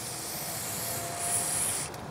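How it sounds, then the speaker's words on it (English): Spray lubricant hisses from an aerosol can onto a car battery terminal, a close, steady spray that swells slightly near the end before cutting off, with no voices. "You just spray a little bit on there, and you're good to go."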